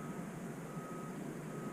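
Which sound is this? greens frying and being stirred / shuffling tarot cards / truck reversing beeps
truck reversing beeps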